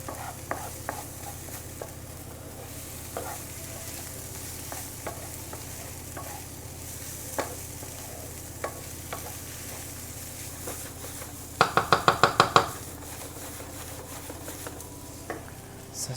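Vegetables, pieces of potimarron squash and mushrooms, sizzle as they grill in a pan, with a quiet steady frying hiss, occasional utensil clicks and a quick burst of sharp taps near the end.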